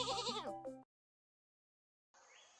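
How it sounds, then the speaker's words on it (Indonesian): A goat bleats loudly at close range in a wavering, quavering cry, then silence falls before a second, shorter bleat begins at the end. "Dan Khadijah tanpa ragu memberikan bekal untuk Halimah berupa berpuluh-puluh ekor kambing untuk dibawa pulang."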